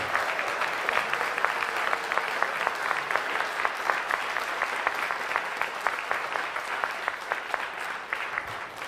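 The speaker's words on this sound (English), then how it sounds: "So I want a round of applause for this Board of Trustees." A crowd at a mid-year town hall applauds the Board of Trustees, steady dense clapping of moderate loudness that carries on for the whole stretch without pause.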